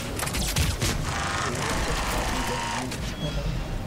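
Rapid gunfire from a weapon in the video game Mass Effect 3, a quick stuttering burst of shots sitting low beneath a person talking over it.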